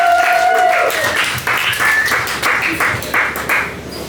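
Audience applause at a comedy show, steady clapping from a crowd that swells and fades in waves across the few seconds, fairly loud and close, with a faint voice over it.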